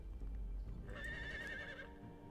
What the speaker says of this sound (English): Alright, horse.